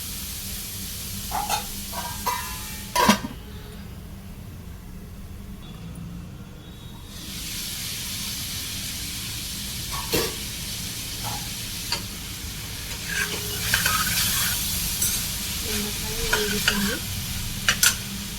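Ivy gourd pieces frying in a pan, with a steady sizzle that swells louder midway and scattered clinks and scrapes as a utensil stirs them, with no one speaking.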